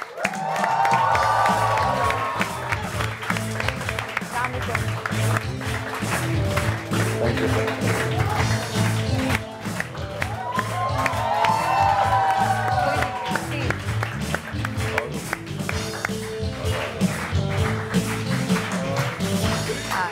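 A studio audience on a Pakistani morning TV show greeting a singer with loud applause and cheers, mixed with shouts and a host's voice, continuing steadily for twenty seconds.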